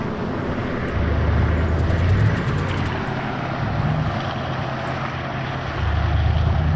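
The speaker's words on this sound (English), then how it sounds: "I hear a plane or something flying, but I can't see it anywhere." Propeller airplane droning overhead in the tower defense game Urban War Defense, a continuous low engine hum that swells and fades slightly, with faint high clicks from the game on top.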